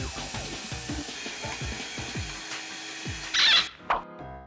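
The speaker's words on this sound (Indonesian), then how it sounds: "Lanjut, kita haluskan biar gampang diolah menjadi adonan." Steamed edamame being ground into a paste in a whirring grinder, a steady motorized hum with rhythmic rising squeals, ending in a few sharp bursts and a brief clatter.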